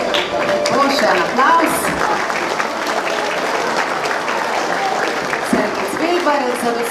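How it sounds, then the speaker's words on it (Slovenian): A crowd claps steadily at a school year-end ceremony honouring pupils' competition achievements; a dense, even round of applause, close and fairly loud, holding for several seconds with faint voices mixed in. "Še en aplavz."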